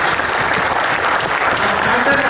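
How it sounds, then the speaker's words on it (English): An audience at a talk on eye health and aging claps in a sustained round of applause, dense and steady throughout, with a little speech underneath. "Another round of applause for Dr. Pundit."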